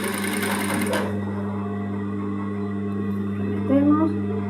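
A sewing machine stitches the seam of a women's shirt, running in a dense steady whir for about a second, then a steady low motor hum and soft handling noises continue.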